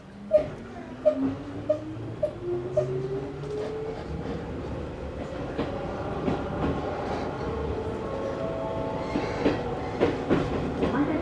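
An Izuhakone Railway 3000 series electric train running from Mishima toward Shuzenji, heard from inside the car as the motor whine climbs steadily in pitch during acceleration over a steady rumble with periodic rail joint clicks.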